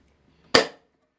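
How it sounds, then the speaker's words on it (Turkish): A single sharp mechanical tap, a quick knock from a pollen cleaning machine's internal mechanism that keeps the pollen hopper from clogging, rings briefly and fades in quiet surroundings. "makinenin içerisinde polen haznesinin tıkanmaması için bir darbe uyguluyor"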